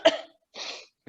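Two short, harsh coughs separated by a brief pause, close and fairly loud, with the start of a third at the very end.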